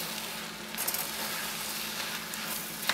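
Wine stirred into shallot and mushroom risotto in a pan, a steady close sizzle and hiss with a few soft scraping stir sounds, no talking.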